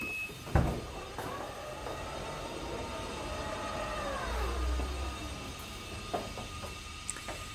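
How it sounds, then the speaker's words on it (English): Power tailgate of a 2017 Mazda CX-5 Platinum swinging open, a steady motor whine with a descending tone, a soft thud near the start and light clicks as it finishes, recorded close with no talking. "We also have electrically operated tailgate."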